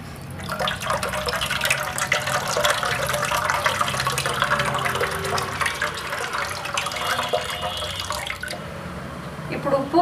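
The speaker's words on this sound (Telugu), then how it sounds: "పిండేసుకొని చింతపండు పిండేసుకొని రసాన్ని అయితే వేరు చేద్దాం" Tamarind squeezed by hand in water to draw out juice for tomato rasam, giving a steady close-up slosh and trickle of liquid with dripping, continuous throughout.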